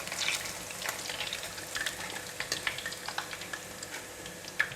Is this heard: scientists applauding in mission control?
no